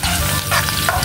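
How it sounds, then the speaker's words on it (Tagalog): Garlic sizzles in a hot pan while a utensil stirs it, a brief close burst of crackling frying with scraping stir sounds and no talk. "Haluin po mga idol."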